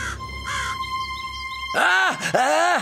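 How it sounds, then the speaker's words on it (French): Harsh crow caws ring out in a narrated animal story, two loud drawn-out calls close up following a brief patch of background music. "un corbeau vint se poser sur une des fausses antennes du loup"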